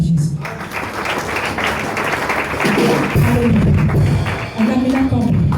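Church congregation clapping and cheering in praise, a steady wash of applause mixed with voices that rise and fall across the room.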